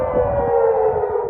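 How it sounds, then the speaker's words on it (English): Air-raid sirens wail across Israeli cities during a rocket attack, a loud, steady, continuous tone held throughout with a faint rumble beneath it. "Sirens wailing, with Israeli cities now on high alert."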